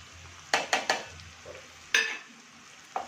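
Onion, tomato and spices for a dried-fish sukat bhaji are stirred in a pan, giving several sharp spoon scrapes and knocks over a faint low sizzle.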